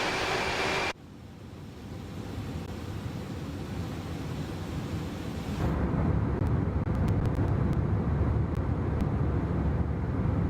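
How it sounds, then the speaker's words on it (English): Steady broadband wind roar fills an Airbus A300-600R cockpit in cruise within a flight simulator game, loud and unbroken, with engines barely present beneath and a brief cut in the noise near the start. "That's really windy sounding."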